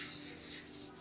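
Sandpaper rubs back and forth over a surface in three soft, rhythmic strokes, close by and fairly quiet, with no talking.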